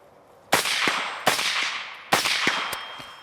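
Three sharp carbine gunshots fired at targets, each a loud crack at roughly 0.7-second spacing followed by a long ringing decay, with a faint metallic ping between shots.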